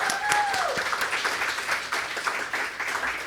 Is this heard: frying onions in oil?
no